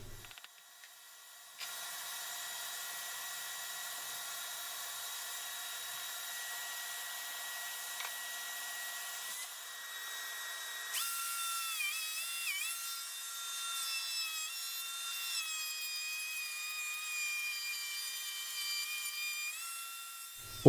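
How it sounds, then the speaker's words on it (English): A power tool cuts a port hole in the back of a wooden speaker enclosure for an Arylic TQWT two-way floor-standing speaker. It makes a close, steady whining drone that rises to a louder, shifting pitch partway through. "On the back of the enclosure, I am cutting the hole for the port."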